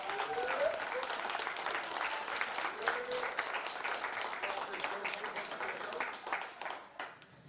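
Applause from an audience at a youth national championship media day, a fairly faint, steady patter of clapping that thins out toward the end, with some talk mixed in.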